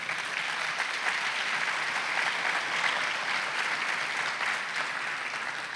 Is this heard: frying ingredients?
no